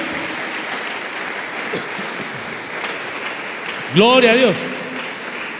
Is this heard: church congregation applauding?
yes